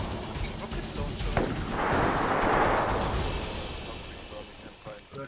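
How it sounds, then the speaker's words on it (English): Gunfire in the video game DayZ, a heavy blast followed by a rolling, rumbling boom that swells and fades over a few seconds, with scattered distant shots and players talking around it. "whose shots are those?"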